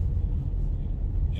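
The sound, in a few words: morning rush hour traffic on the A5 in London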